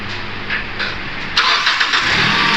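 A Naza Citra automatic car engine cranks and catches, then settles into a steady close idle with a brighter surge partway through, no voices present.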